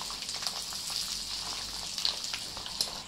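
Peanuts fry in hot oil for poha chivda, giving a soft, steady sizzle with light crackles and a few sharper pops, quiet and close with no talking.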